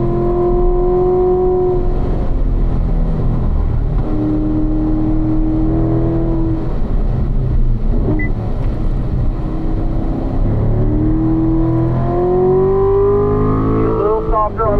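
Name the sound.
car accelerating on track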